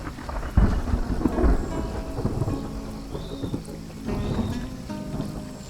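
Heavy rain pours steadily during a wet-season thunderstorm in the Pantanal wetlands, with deep rumbling thunder rolling through the downpour and a louder crack early on; no voices.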